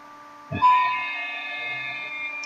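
A sudden mechanical clunk followed by a steady whirring electric motor hum as a 2019 Volkswagen Jetta's rear electronic parking brake calipers disengage, sustaining for a couple of seconds, close by with no talking.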